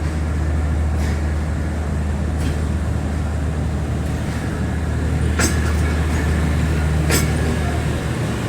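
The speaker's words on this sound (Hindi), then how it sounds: "पाकिस्तान एक्सप्रेस भी छूट गई पटीदन रेलवे स्टेशन से।" The Pakistan Express pulls out of Padidan railway station with a loud, steady low rumble of rolling rail cars and a few sharp metallic clanks and squeals along the way.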